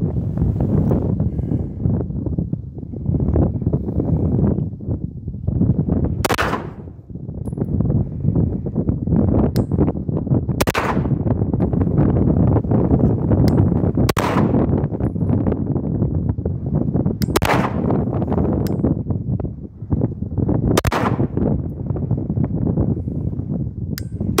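Shadow Systems pistol shots at a shooting range, about eight sharp cracks at irregular intervals over steady wind buffeting the microphone.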